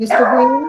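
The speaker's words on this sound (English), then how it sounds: "I heard a barking dog." A single drawn-out dog howl or whine, loud and close, with a wavering pitch; a person speaks briefly at the same time.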